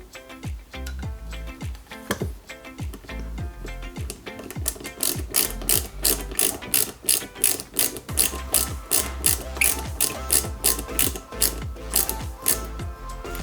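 A screwdriver drives a small screw that fixes the front seal on a Lancia 037 model kit from IXO Collections, giving a fast run of close, sharp ratcheting clicks that grow denser and more even.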